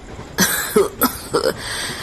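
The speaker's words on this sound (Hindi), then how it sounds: "वो बूढ़ा खांसते हुए कहता है" An old man coughs in an animated Hindi story, a few raspy, throaty coughs close up, arriving in quick uneven bursts with short pauses between them and no speech.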